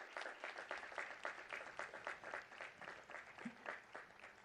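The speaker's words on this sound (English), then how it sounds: "Please give them a round of applause." A crowd in a gym claps for faculty and staff standing at a college commencement ceremony, steady, dense applause heard from a distance at low volume.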